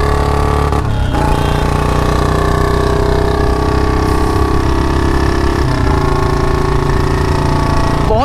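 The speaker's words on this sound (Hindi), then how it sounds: "लॉन्ग बोतल की आवाज़ कितनी प्यारी, एक बार सुनो भाई आवाज़ सुनाता हूँ" A Royal Enfield Bullet motorcycle fitted with a long bottle silencer idles and revs loudly up close. Its deep, thumping exhaust is steady throughout, with a blip of throttle near the start and again near the end.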